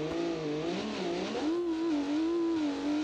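A 2.5-liter inline-six rally car engine revs in BeamNG, its tone climbing and falling as the throttle changes, a steady, close, continuous drone with a smooth, rising and wavering pitch.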